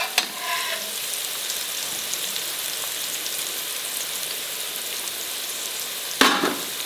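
Sliced onion fries for pulao in a pan, a steady bright sizzle filling the clip with a few clinking stirs at the start and one sharp clatter near the end.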